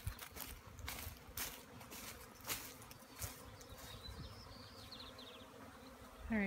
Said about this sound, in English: Still a lot of bees flying around here.